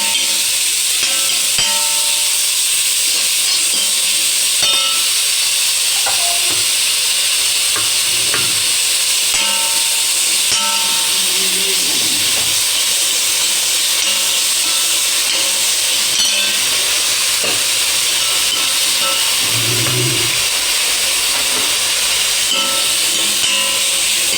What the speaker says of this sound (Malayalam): നമുക്ക് നന്നായിട്ട് ഇളക്കാം.